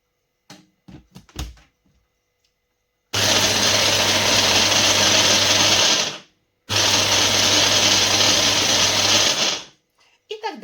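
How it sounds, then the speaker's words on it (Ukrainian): Blender pulsing to grind mint leaves with sugar, two loud steady whirring bursts of about three seconds each with a short gap between, preceded by a few brief knocks. "Далі ривками збиваємо"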